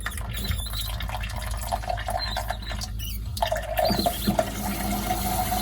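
Water runs steadily from a newly installed Delta Varos kitchen faucet, a broad splashing rush that shifts in tone partway through as the flow changes, with no voices.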